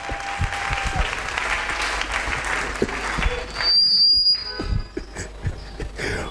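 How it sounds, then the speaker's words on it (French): A church congregation bursts into loud, sustained applause and cheering during a sermon, with sharp whistles piercing through the clapping and scattered voices rising from the crowd. "Acclamons très fort pour lui."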